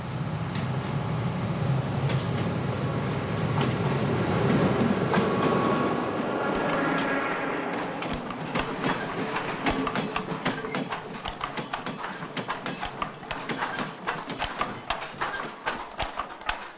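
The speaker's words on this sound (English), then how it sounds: "We're gradually getting used to the gentle rocking of the train." A train climbs the Sri Lankan main line up into the hill-country plateau. A steady rolling rumble gives way to a brisk, repeating clickety-clack of wheels over rail joints, heard close from inside the carriage.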